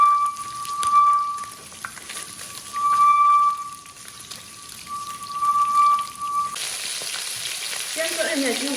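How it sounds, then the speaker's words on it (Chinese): Fish pieces frying in lard in a hot wok, browned on both sides, make a loud, close, continuous sizzle. Steady tonal tones come and go over it, and the sound shifts near the end. No one speaks. "把两面都给它煎至均匀"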